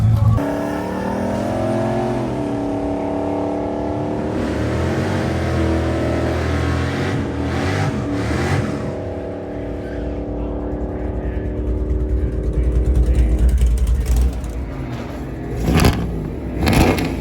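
The General Lee drag car makes a hard accelerating pass at Drag Week, a loud engine climbing steadily in pitch through rising revs, with a brief lift around the midpoint before it pulls again and fades into crowd noise.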